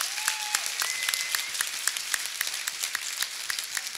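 A hall audience at a national security conference panel breaks into steady, crisp applause, with a few short whoops of cheering rising over the clapping.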